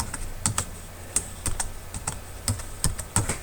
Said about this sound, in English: you type in the name of the new folder